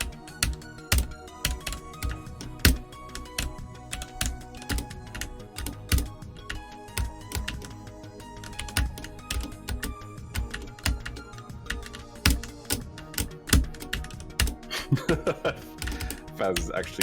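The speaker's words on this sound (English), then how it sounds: "if you're extra hardcore about keyboard sounds" Rapid computer keyboard typing during a speedrun of I Wanna QoQoQo 300, with dense clattering keystrokes in quick irregular bursts, fairly close, continuing steadily throughout alongside some game sounds.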